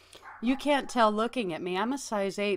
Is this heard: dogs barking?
yes